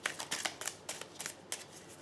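A deck of oracle cards being cut and riffled by hand, a quick series of crisp papery flutters and slaps in short bursts, close and fairly quiet.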